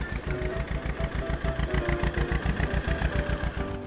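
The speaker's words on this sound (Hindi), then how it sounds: "उस ट्रैक्टर में बैठकर जब तक मैं ना कहूँ तुम खेत के चक्कर काटते रहो" A tractor engine runs steadily while driving in circles around a farm field, a loud, close, rhythmic chugging throb with no pauses.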